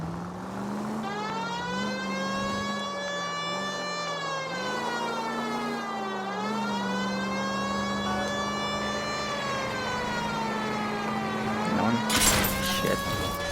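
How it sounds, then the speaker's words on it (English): Police car siren in the video game L.A. Noire, a continuous wailing tone sweeping slowly up and down over engine hum, loud and steady, with a brief burst of noise near the end. "Use the goddamn siren."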